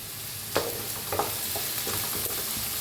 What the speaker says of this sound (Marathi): हलवून घेऊया कढीपत्ता